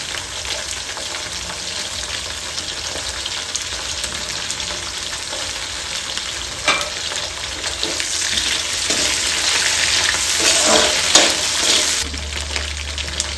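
Leftover grilled pork belly with garlic frying in a pan, a steady close sizzle and crackle with occasional stirring scrapes that grows louder toward the end.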